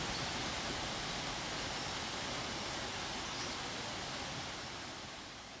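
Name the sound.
Kaieteur Falls waterfall in Guyana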